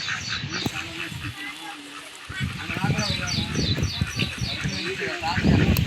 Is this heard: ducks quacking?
yes